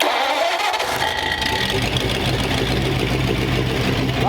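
A flathead engine roars up as the throttle is pushed hard, a loud, steady revving rumble that swells within the first second and holds strong and close throughout.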